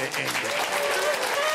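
Audience applause at a German cabaret show in Franconia, a steady dense wash of clapping that runs the whole short moment while a voice speaks over it.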